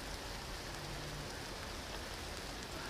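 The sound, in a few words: rain falling at a hammock campsite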